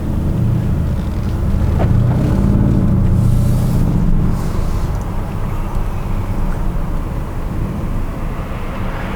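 A 2018 Mercedes-Benz GLC63 AMG drives with a steady, loud engine drone and road rumble heard from inside the cabin. A brief rise in engine pitch fits a downshift with a rev-matching blip.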